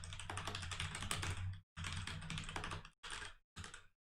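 Rapid, steady typing on a computer keyboard, close and clear, in bursts of clicking keystrokes separated by brief pauses.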